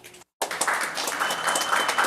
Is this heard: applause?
yes